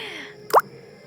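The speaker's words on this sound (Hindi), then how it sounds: "ये देखो मेरी मम्मा पानी में चलते हुए" A single soft watery plop as a foot steps into water in a jungle, one brief splash standing alone against quiet background.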